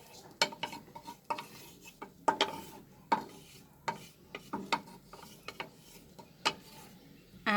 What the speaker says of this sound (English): I'll mix everything.